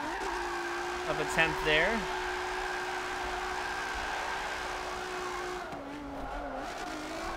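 Racing car in Forza 7 drifting without a handbrake on a Logitech G920 wheel, engine droning steadily with a downshift and brief tire squeals, while someone talks over it.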